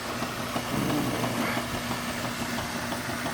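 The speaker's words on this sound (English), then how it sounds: "Pump is moving. It's not pumping out" A Kenmore washing machine's pump runs with a steady, low mechanical hum and faint vibration, constant throughout with no pauses.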